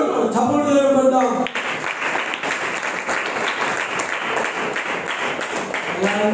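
A congregation claps together during a Sunday worship service, a sustained, loud round of many hands that begins after a brief spoken phrase and carries on steadily to the end.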